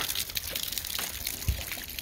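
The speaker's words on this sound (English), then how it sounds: "oh, water coming down all over the place." Meltwater from ice after an ice storm splashes and trickles steadily, a close, continuous pouring and dripping with a soft thud partway through.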